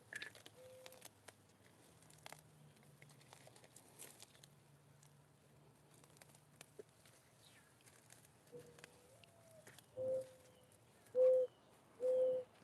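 Birds call and coo outdoors in a garden in the morning, with a few soft, distant calls early on and then three louder, close, tonal coos near the end over a quiet background.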